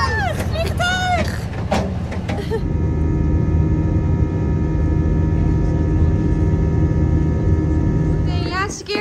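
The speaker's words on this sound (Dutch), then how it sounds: "Vliegtuig. Vliegtuig." An airplane engine gives off a loud, steady rumbling drone that holds for several seconds, with people talking over it briefly at the start and again at the end.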